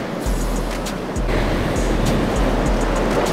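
Rough surf churns in Jupiter Inlet with a dense, steady wash of water and a low rumble, as waves strike and slap against a deep-V powerboat. The sound is loud and constant, with no voices.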